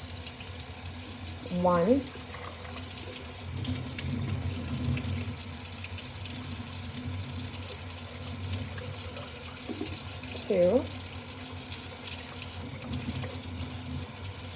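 Hot water running steadily from a kitchen tap into a sink, a continuous hiss and splash throughout, with a few short spoken words over it.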